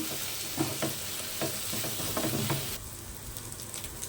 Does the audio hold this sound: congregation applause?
no